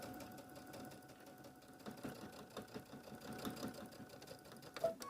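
A sewing machine stitching across the waistband of a floral apron, running in a steady, rapid mechanical chatter that lasts the whole stretch at moderate, close-up volume.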